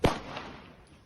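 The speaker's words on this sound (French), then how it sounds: "le coup de feu retentit" A single sharp gunshot from a police officer's gun cracks out at the start, followed by a short fading echo that tails off over about a second.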